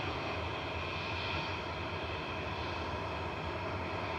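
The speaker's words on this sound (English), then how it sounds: "Ah, we got a little A320 of Aer Lingus." An Aer Lingus Airbus A320 arriving at Manchester Airport from Dublin gives a broad, steady jet roar, a continuous wash of engine noise at a moderate distance with no talking.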